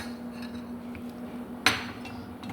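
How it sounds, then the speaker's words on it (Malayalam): A single sharp clink of a spoon against a pot while stirring a homemade healthy country soup seasoned with pepper powder, over a faint steady hum in a quiet kitchen. "ഇത് നന്നായിട്ട് ഇളക്കാം."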